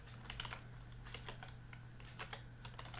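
Rapid typing on a computer keyboard while entering jQuery code, an irregular run of light key clicks over a steady low electrical hum, close and fairly quiet, with no voices.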